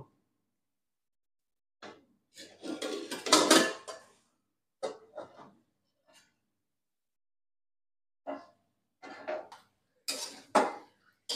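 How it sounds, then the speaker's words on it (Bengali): Metal lid lifted off a rice pot on the stove, a cluster of clattering scrapes and clinks near the start, followed by a few brief sparse knocks and a final pair of metallic clanks, no talk. "এবারে আমি চাপাটা তুলে নেব।"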